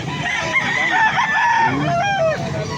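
A gamecock rooster at a fighting-cock market in Angeles City crows loudly and close by in one long drawn-out call, with other fowl faintly clucking in the background.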